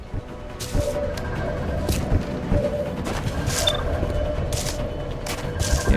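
Gunfire in XCOM Enemy Within with the Long War mod: several loud, sharp bursts crack over a dense, continuous game soundscape.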